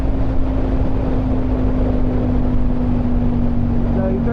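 A KTM Super Duke 1290 motorcycle at full throttle, its engine a steady loud drone mixed with heavy wind rush and a voice talking over the top.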